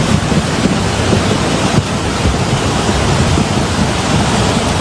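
Swollen flash-flood torrent in Agam, West Sumatra, sweeping along wood debris and large boulders: a loud, constant broadband roar of rushing water with low rumbling surges, no voices.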